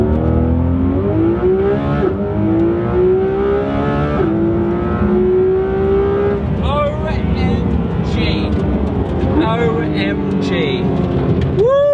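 A Porsche 911 GT3 RS with a 3.8-litre flat-six engine revs and accelerates hard with rising pitch and gear changes, loud and close, while people talk and exclaim over it.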